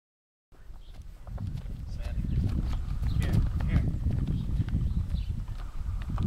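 A Clydesdale yearling colt moves about, its hooves clip-clopping steadily and fairly close, with a broad background rumble and no clear talk.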